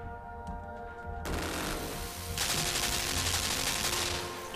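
Gunfire from guns and turrets in the Limbo video game, a dense and continuous rattle of rapid shots that grows heavier partway through, loud and steady, with no talking.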